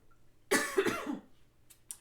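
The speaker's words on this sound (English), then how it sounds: "Cough." A single short cough, close and fairly quiet, with a brief throaty burst followed by a faint trailing breath over near silence.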